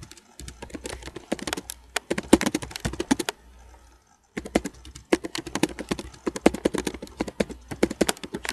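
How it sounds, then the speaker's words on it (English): A computer keyboard being typed on up close: rapid, irregular clicking keystrokes in bursts, with a brief pause near the middle before the typing resumes. "Let's just go ahead and type anything in there."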